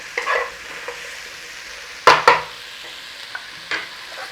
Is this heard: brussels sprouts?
yes